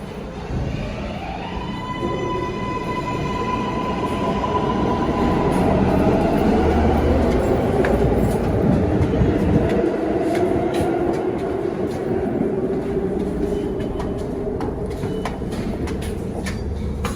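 A New York City subway train rumbles loudly and steadily, with rattling wheels, a rising motor whine and occasional metallic squeals.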